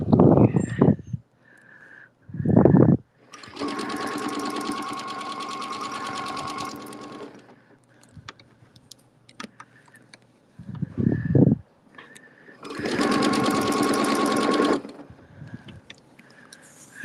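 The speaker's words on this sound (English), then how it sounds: "And I am going to stitch to that." A sewing machine stitches fabric in two sustained runs of about three seconds each, separated by short louder knocks and handling sounds, with quiet pauses between.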